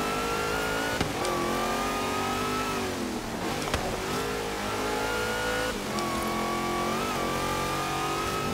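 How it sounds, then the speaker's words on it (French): Supercharged car engine in Forza Horizon 3 with a Hot Wheels setting, loud and close, revving steadily with rising and falling pitch as it shifts through gears, with a brief clunk near the start. "quand le compresseur il s'emballe, ça pousse"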